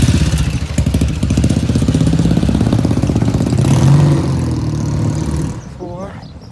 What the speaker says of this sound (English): There was a motorbike coming.